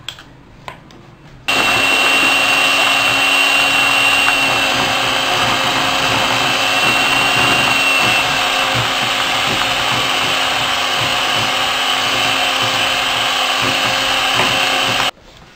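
Electric hand mixer beating cashew cookie batter with vanilla essence, a steady loud motor whir with a high whine running continuously after a brief quiet start.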